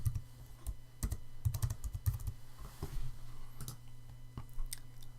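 Computer keyboard being typed on to enter a username, a scatter of light quick key clicks in short bursts over a low steady hum, quiet and close.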